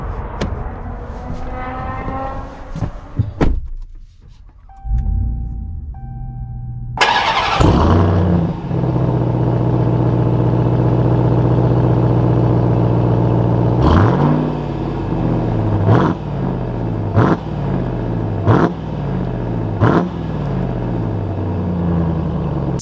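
A 2021 Ram TRX Launch Edition pickup truck cranks and its engine catches with a loud roar, then settles into a deep, steady idle and rumble, with sharp clicks and brief rises in revs as it pulls away.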